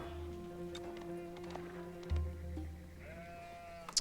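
Sheep bleat in a video game on a prairie map crowded with flocks: thin, wavering cries under a steady droning game background, with a few short clicks and one louder bleat near the end.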